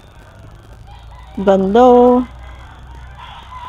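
Roosters crow loudly and close by at a busy poultry market, with one clear crow rising over low background murmur and a speaking voice.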